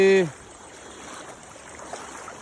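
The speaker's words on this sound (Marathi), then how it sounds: "लई स्पीड आहे पाण्याला जबरदस्त" Fast-flowing floodwater after a cloudburst of heavy rain over farmland rushes in a steady, broad roar. A short voice sounds at the very start, then the water continues alone.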